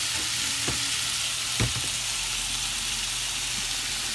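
Food frying in a pan with salt, pepper and garlic salt, a continuous broadband sizzle with a couple of brief utensil clacks near the start, no talking.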